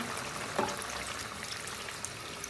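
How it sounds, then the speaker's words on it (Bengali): Water is poured into a pan of koi fish curry with eggplant, a short, soft splashing trickle with one brief sharper splash near the start, heard close and quietly. "এখন আমি এর মধ্যে দিয়ে দিচ্ছি পানি"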